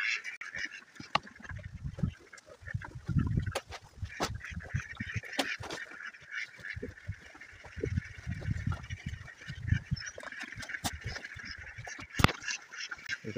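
Ducks quacking around a rural yard where eggs may be found, with repeated raspy quacks and honks coming in irregular bursts at moderate distance, separated by quieter gaps and faint background noise.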